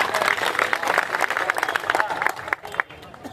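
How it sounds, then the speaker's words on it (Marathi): A rally audience claps in a dense, sustained burst of applause mixed with crowd noise and talk, loud at first and tapering near the end. "टाळ्या वाजवा"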